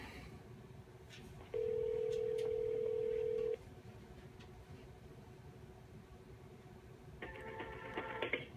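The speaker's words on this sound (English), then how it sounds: "I'm going to make a phone call." A Cisco 8800 desk phone dialing out: a steady electronic tone holds for about two seconds over quiet room hum, followed by faint beeping as the call connects near the end.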